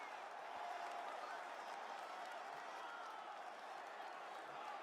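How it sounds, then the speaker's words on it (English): Wrestling arena crowd at WrestleMania, a dense, steady roar of cheering and applause, faint and distant throughout with speech murmuring underneath. "listen to the crowd"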